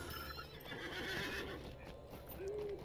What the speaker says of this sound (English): All right, I'm on a horse to Gondamon.